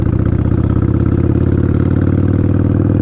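A motorcycle engine revs steadily in first gear while pulling away, a loud, close, rhythmic low throb that holds an even pitch throughout with no pauses.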